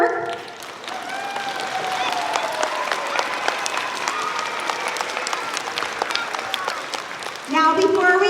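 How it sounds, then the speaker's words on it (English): A school assembly audience gives a steady round of applause, dense crowd clapping that holds evenly for several seconds before a voice cuts in at the end. "So a nice big round of applause for all of their work."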